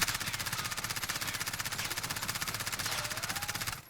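A single long automatic burst of SMG fire in a video game, fired with an anti-recoil mod, rapid evenly spaced shots in a steady rhythm for nearly four seconds before stopping abruptly.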